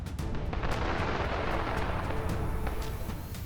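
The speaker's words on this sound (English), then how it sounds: "2 Russian soldiers begin shelling Ukrainian positions from a distance" Artillery shelling by Russian soldiers at Ukrainian positions from a distance: a continuous, dense rumbling roar with scattered muffled thuds and booms, no voices.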